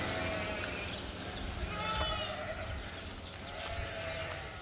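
Young calves bleat at a milk-feeding machine on a farm, their calls overlapping steadily against a constant low background rumble at moderate distance.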